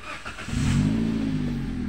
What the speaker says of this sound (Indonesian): Ini kita coba starter mesinnya.